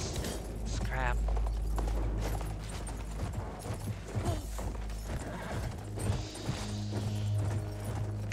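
Horse hooves clip-clop steadily during riding in the video game Battlefield 1, mixed with game ambience, music and effects, with a voice talking over them.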